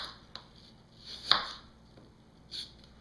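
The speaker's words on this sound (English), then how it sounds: "I'll just take the knife here and I just cut them into thinner strips" A knife slicing apples into thin strips on a board, giving three or four sharp, spaced cuts, with one cut louder than the rest, close and clear without talk.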